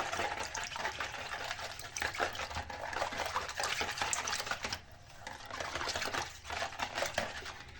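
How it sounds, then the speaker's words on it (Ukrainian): Pancake batter with a pinch of salt whisked in a bowl, a steady wet rhythmic clatter of rapid strokes that briefly pauses midway and resumes, close and fairly loud with no talk. "Тепер маємо все добре перемішати."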